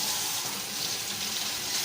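Scalding hot tap water pours from a faucet into a bowl, a steady, close rushing stream that continues unbroken with no voices.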